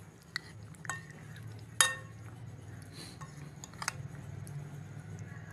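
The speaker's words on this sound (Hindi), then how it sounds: "अब इन तमाम चीज़ों को अच्छी तरह से मिक्स कर लेंगे।" Spices are mixed into raw chicken in a bowl for macaroni, with a few sparse, light clinks of a spoon against the dish over a low, quiet background hum.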